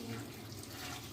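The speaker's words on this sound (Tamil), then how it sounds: "இப்போ இந்த இதை வந்து இன்னும் நல்லா தண்ணி ஊற்றி ஒரு களை கலைஞ்சிட்டு" Water is poured over poha (flattened rice) in a kitchen to rinse it for upma, making a brief, steady splashing rush of moderate loudness.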